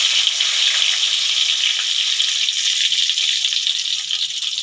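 Bay leaf, panch phoron and two dried chillies sizzle in hot mustard oil in a pan, a steady, close, bright crackling hiss that holds level the whole time with no talk.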